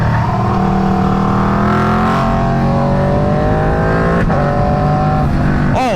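An Aprilia RSV4 sport bike on the road while its tires warm up, the engine droning loudly and steadily with rising and falling pitch as it pulls through gears, close and continuous throughout.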